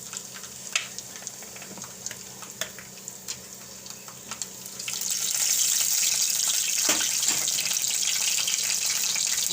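Cumin seeds and garlic cloves hit hot oil for a Gujarati corn and spinach curry. Light kitchen clatter comes first, then a loud, steady sizzling hiss rises suddenly and carries on close by.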